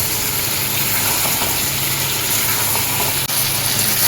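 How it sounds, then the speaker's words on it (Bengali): Chicken balls frying in a thick spice masala, a loud dense continuous sizzle close up, steady throughout with one brief dip near the end. "এই কষা মশলার মধ্যে আমি বলগুলো দিয়ে দেব, দিয়ে এইভাবে আরও কিছুক্ষণ কষিয়ে নেব।"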